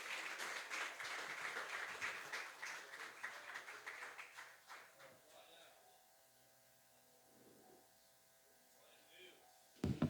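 A church congregation claps continuously, and the applause slowly fades over several seconds into a quiet room with a low electrical hum and a few faint sounds.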